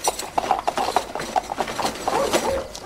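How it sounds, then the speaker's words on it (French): A horse's hooves clip-clop at a steady walking pace, fairly close and distinct, the hoofbeats ringing out clearly over quiet outdoor ambience. "J'ai même ramené le cheval de ton père."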